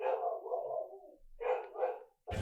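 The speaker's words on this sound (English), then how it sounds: "The dog is barking, and I don't know why." A dog barking from a television drama, two or three short bark bursts in quick succession, moderately loud, followed by a sudden noisy cut at the end.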